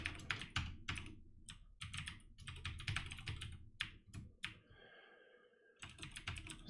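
Computer keyboard clattering under steady typing while coding, quick close-up key presses in bursts with a brief pause and a faint tone before the typing resumes.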